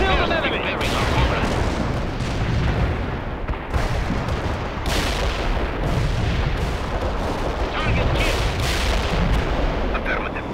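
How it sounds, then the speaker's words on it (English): A heavy artillery strike and gunfire rage in the World In Conflict: Soviet Assault video game, with dense, loud booms and rattling shots piling up continuously, and voices breaking in over the battle. "Heavy artillery strike fire."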